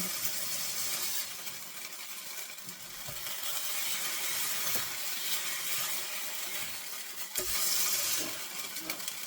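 Pork chops cook in a skillet, giving a soft, continuous hiss of frying with a few faint stirs, steady and moderately quiet.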